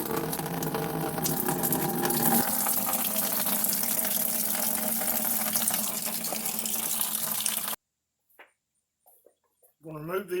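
Coolant drains from a Toyota Tacoma radiator into a bucket during a 100k-mile service, a steady splashing pour that runs for several seconds, then stops abruptly into near silence.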